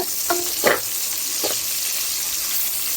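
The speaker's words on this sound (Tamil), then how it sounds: "இது கூட நம்ம கட் பண்ணி வச்சிருக்க பெரிய வெங்காயத்தை ஆட் பண்ணிக்கலாங்க. இது நல்லா அப்படியே வதக்கி விடுங்க." Chopped large onions frying in a pan for mutton biryani give a constant close sizzle, with a few brief stirring scrapes early on and no talking.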